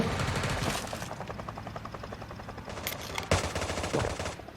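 Rapid bursts of automatic gunfire from the battle-royale shooting game Sausage Man, loud and dense throughout, with a few sharper single shots and impacts toward the end.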